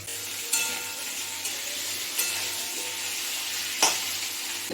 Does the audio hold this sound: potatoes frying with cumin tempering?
yes